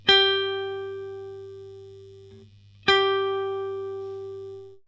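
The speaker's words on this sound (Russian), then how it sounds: "если я на этой гитаре сыграю одну ноту, она довольно быстро потухнет." A clean guitar note is plucked and rings alone, fading steadily over about two seconds before a second pluck of the same note starts another quick decay.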